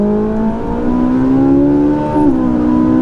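A Ferrari 458 Italia with a likely non-stock exhaust line pulls hard under acceleration, its engine tone rising smoothly with a brief dip near the end, heard loud and close without talk.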